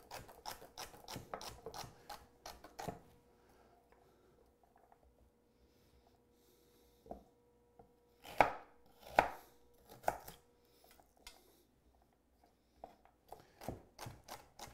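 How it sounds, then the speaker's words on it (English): A knife chops food into quarter-inch dice on a cutting board in quick runs of crisp taps, with quiet pauses and a few isolated cuts between the runs. "Cut it into sticks, and then just cut it at about a 1/4 inch."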